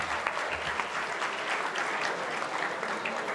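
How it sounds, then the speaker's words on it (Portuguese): Audience clapping for a prize winner called up to the stage at a university lecture event, a steady dense wash of applause that holds throughout without any speech. "Pessoal, vocês podem bater palmas para quem está ganhando também, hein?"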